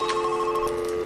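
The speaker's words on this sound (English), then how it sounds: "The phones will randomly go off" A telephone rings in the stealth heist video game Monaco: a steady electronic ring with sustained tones that holds through the whole short moment, fairly loud and alone.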